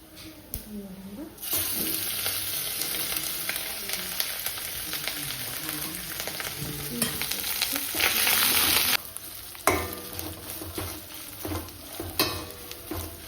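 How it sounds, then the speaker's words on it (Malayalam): Garlic and ginger sizzle and fry in a pan for a chicken liver roast, a steady close crackling hiss with occasional stirring scrapes, briefly interrupted before the frying resumes. "അടിക്ക് പിടിക്കാതെ ബ്രൗൺ കളർ ആവണത് വരെ നമുക്ക് ഇതിലേക്ക് ഇഞ്ചി ഇട്ട് കൊടുക്കാം."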